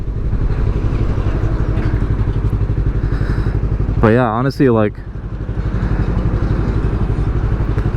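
A Yamaha R3 motorcycle fitted with an Akrapovic slip-on exhaust runs with a steady low throbbing engine note and a brief rising rev midway, heard close while someone talks over it.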